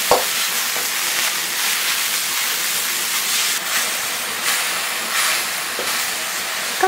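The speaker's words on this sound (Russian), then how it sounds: "и, помешивая, жарим грибы примерно 1 минуту." Enoki mushrooms, salted and dressed with oyster sauce, stir-fry in a hot wok, giving a steady, close broadband sizzle and hiss for the whole stretch with no talking.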